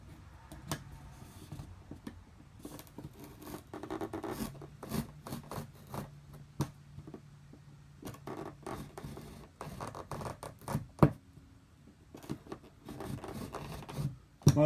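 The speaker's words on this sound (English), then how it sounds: "you could cut it out with a utility knife and just keep going over it" Utility knife scoring and cutting through wall board during a solar system install, a series of irregular short scraping strokes and clicks over about fifteen seconds, close and fairly quiet.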